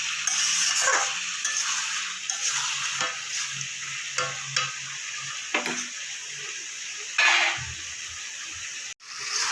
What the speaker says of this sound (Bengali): সমস্ত মশলা সাথে ভাজা ভাজা করে নেবো ঝিঙে আলুর সাথে